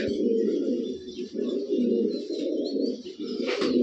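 Gribaz and colour pigeons coo in repeated soft throaty phrases close by, with a few faint chirps and a brief sharper call near the end.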